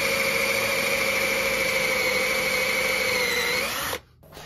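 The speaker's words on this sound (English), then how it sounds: "I then drill a 10mm hole all the way through the sleeper." A power drill bores a 10mm hole straight through a wooden railway sleeper, a steady high whine held near and loud for about four seconds before cutting off abruptly.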